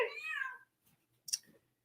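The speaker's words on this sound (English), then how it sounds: "Even the cat is crying." A cat meows indoors: one clear drawn-out cry at the start, then after a short pause a brief fainter second meow, close by with no talk.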